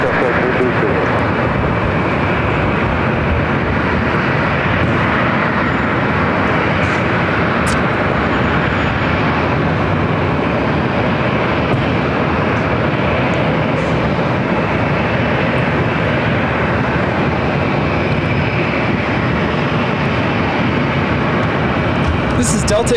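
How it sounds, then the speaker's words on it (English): A Delta Airlines Boeing 737-900ER takes off at LAX as a loud, steady broadband jet roar that fills the whole stretch, with voices faintly present beneath it. "about to take off to Minneapolis on the 737 900ER"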